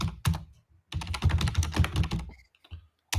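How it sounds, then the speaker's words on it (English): Rapid clattering keystrokes on an old, 1990s-style computer keyboard, fairly close and loud, in dense bursts with a short pause near the middle and a brief gap toward the end. "I feel like every time I hear you type, it sounds like you must have a keyboard from like the 90s."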